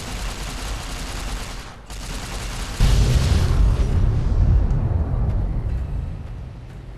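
Explosions in the video game Fallout: Lonesome Road burst in a loud rumbling chain, a brief dip and then a heavier blast that rolls and slowly fades over several seconds.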